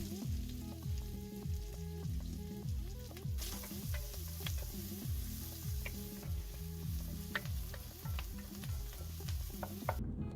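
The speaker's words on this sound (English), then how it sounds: "I start by sautéing chopped onion in neutral oil." Chopped onion sautés in neutral oil for a mushroom gravy, giving a steady, close sizzle that runs the whole time with occasional light stirring clicks over a low tonal background.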